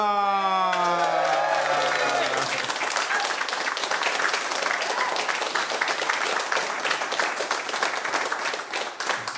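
A live audience at a comedy and wrestling talk show in Glasgow welcomes Lionheart to the stage. A short musical sting fades into loud, sustained applause and cheering with scattered whoops that continues without letup.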